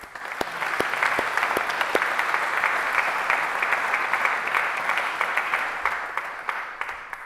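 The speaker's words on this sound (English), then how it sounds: "Let's give a round of applause for the support." Steady audience applause at a college graduation ceremony, a sustained wash of many hands with a few sharper nearby claps standing out, holding level for several seconds.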